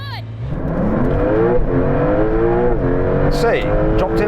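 Porsche 911 Turbo S and Ferrari 296 launching side by side in a drag race from a first-gear roll, engines loud and close, revving with climbing pitch and rapid gear shifts.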